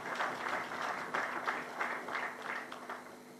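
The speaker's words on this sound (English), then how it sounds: "May I request the colleagues here to clap for you for this achievement today" Members of Uganda's parliament clapping during the opposition's alternative budget speech, heard faint and distant as a soft, steady patter with gentle rhythmic swells.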